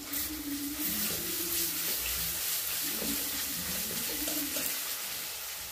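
Ginger garlic paste sizzles in hot oil on a wood-fired stove, giving a steady, fairly quiet hiss with faint clinks from stirring and utensils.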